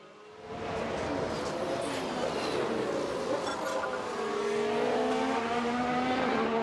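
Racing cars in the F1 Manager 2022 video game roar steadily through the whole stretch, with rising and falling engine whines and a brief tire squeal as one car spins out. No voices are present.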